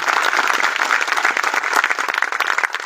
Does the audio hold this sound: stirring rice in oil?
no